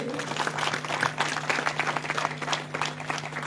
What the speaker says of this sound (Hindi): एक बार जोरदार तालियां महोदय के लिए।